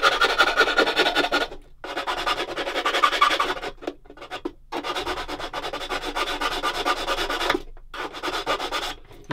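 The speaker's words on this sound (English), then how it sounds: "This sanding stick, this is a coarse one" A coarse sanding stick rubs against a plastic part of a Bronco Mk XXIII Sub 1/35 scale model kit in close, rasping strokes, several sustained scrubbing passes separated by brief pauses, with no talking.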